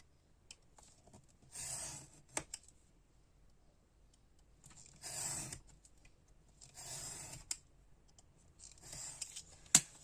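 Cardboard being cut for a desk organizer, a few short separate scraping cuts with faint clicks between them, close and quiet, with no talking.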